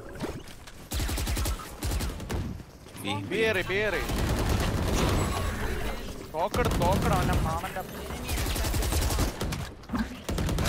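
Rapid bursts of gunfire from the video game Valorant repeat over several seconds while people talk excitedly over the shooting.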